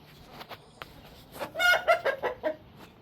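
Chickens clucking at a backyard coop: scattered soft clucks early, then a denser run of louder, close clucking calls in the second half, with no voices.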